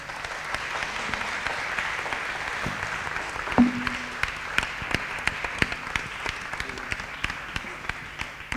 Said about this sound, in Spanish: podemos darle un buen aplauso a los expositores